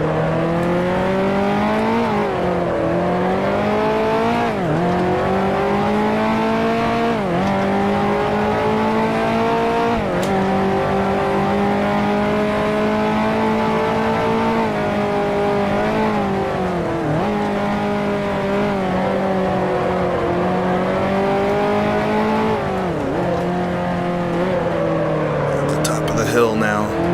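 A 1955 Formula One race car engine in the Grand Prix Legends racing game at the German Grand Prix, a loud rasping tone that climbs and drops sharply through repeated gear changes, with someone talking over it.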